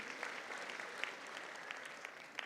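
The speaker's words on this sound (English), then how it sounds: "A round of applause for Mr. Paul Mui." Applause at a graduation ceremony, a room full of people clapping steadily for a couple of seconds, heard faintly from a distance.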